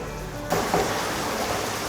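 Tomatoes frying over a raised flame for restaurant-style Shinwari chicken karahi, a dense, loud, even sizzle that jumps up after a quieter opening and then holds steady.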